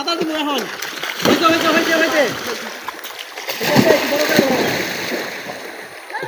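Swimmers splash and slosh in the Bangshi river, with repeated bursts of churning water close by under frequent talking voices.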